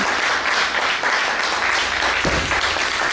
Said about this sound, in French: Je vous invite à accueillir et à applaudir chaleureusement l'honorable Yasmina Wénien.